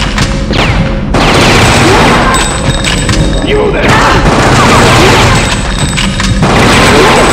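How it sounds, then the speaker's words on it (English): Submachine gun fire in the horror video game Fear Effect, loud rapid bursts and booming impacts repeating in clusters, with someone talking over much of the gunfire. "you got these three guys try to use the submachine gun"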